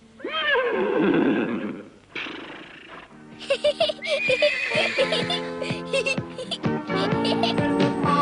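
A horse neighs loudly with a long whinny, then more whinnying follows over music and other busy background sound.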